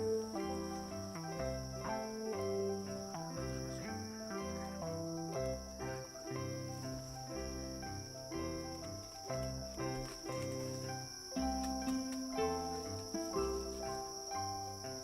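Crickets chirp in a garden on Belitung island, a dense continuous trilling that stays steady throughout, with a persistent high whine above it and no voices.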